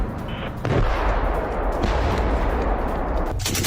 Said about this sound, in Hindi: रूसी आर्मर्ड फोर्सेस की ताबड़तोड़ फायरिंग